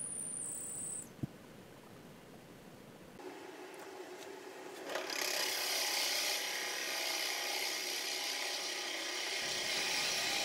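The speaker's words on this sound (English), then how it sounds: "the Forstner bit is doing a lovely job at removing a lot of material" A Forstner bit bores into a maple burl spinning on a wood lathe, a steady close-up grinding hiss that rises sharply partway through and continues loud and even with no talking.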